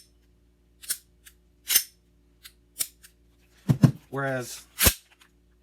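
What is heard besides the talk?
Cow Cow trigger on airsoft Glock being pressed and clicking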